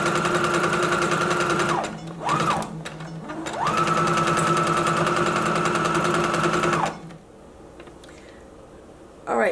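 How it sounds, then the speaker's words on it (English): A home sewing machine runs forward along a skirt seam at regular stitch length, a fast buzzing whir in long bursts with short pauses, then stops into near quiet; close and loud. "now continue sewing forward using your regular stitch length until you get to the end"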